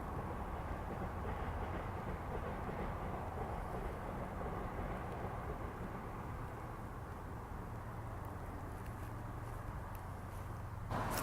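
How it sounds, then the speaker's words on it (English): A train rumbles steadily nearby for the whole stretch, a low continuous rolling noise with faint clatter, slowing as it pulls in. "There's a train coming in."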